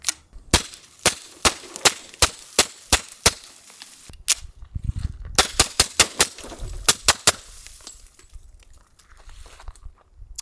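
Suppressed Nighthawk 1911 pistol firing a fast string of sharp, muffled cracks in quick succession, a short pause, then another rapid volley fading into quieter clatter.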